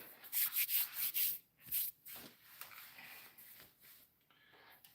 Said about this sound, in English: I'm going to go up to 320 grit, slow way down.